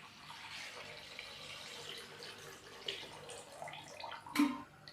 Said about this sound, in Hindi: अभी हम इसके अंदर यखनी डालेंगे।